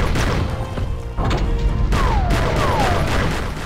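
Pistol secondary fire in the Doom mod AeoD, a loud burst of rapid shots and crashing impacts with descending whistling tones near the end, dense and close.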